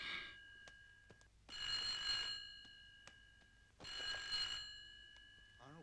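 Bell-type telephone ringing indoors in two long trilling bursts separated by a pause, fairly clear and alone, with a brief voice at the very end.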